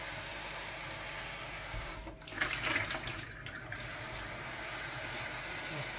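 Tap water splashes over a part from a De'Longhi ECAM 650.85.MS coffee machine being rinsed: a brief gush of about two seconds rises out of a steady running-water hiss, close by.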